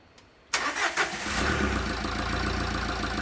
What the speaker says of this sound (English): So Roddy will start the car, and we'll watch that jump up to 12 volts.